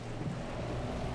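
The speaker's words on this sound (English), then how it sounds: "It made the sound like I hit a puddle" In the racing game Assetto Corsa Evo, a car hits a water puddle in sand, heard as a loud, continuous whooshing splash and rushing noise lasting the whole moment, without talk.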